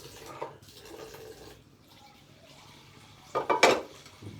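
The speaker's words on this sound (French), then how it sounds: "Bien râper le bas parce que il y a toujours les spaghettis, les pâtes un peu rebelles qui restent calées là en bas de la marmite" A spoon scrapes stuck spaghetti from the bottom of a cooking pot, producing soft intermittent scraping and a brief burst of louder clanking metal near the end, with faint wet stirring.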